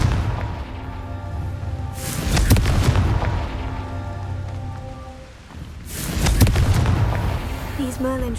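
Confringo fire spell blasts in the Hogwarts Legacy video game: two loud booming bursts with crackling debris, one near the 2-second mark and another around 6 seconds, layered over a steady droning game soundtrack.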